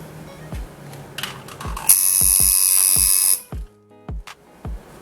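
A coil tattoo machine is switched on and off several times, with short mechanical clicks, then a loud, steady high-pitched buzz for about a second and a half that stops abruptly, followed by a few more clicks.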